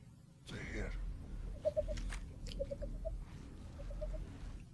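In a Dune Part 2 scene, a character makes short, chirping bird calls by voice, a few quick tweets in small clusters, faint against a low rumbling background.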